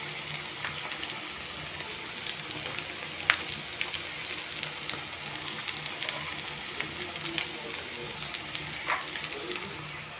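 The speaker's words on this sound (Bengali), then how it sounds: "সম্পূর্ণ মশলা ভালো করে কষিয়ে নেব।" Spices frying in a pan for a chicken curry, a steady close sizzle and crackle with occasional sharp pops and faint stirring scrapes, continuous and moderately quiet with no talking.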